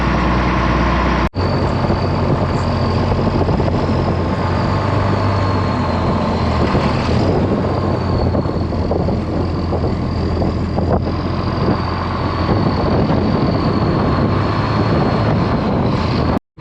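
A truck engine idling steadily while the truck pulls in on a farm to dump grain into a mixer, a loud, continuous low rumble with wind buffeting the microphone and a faint whine overhead, with brief thumps at start and end.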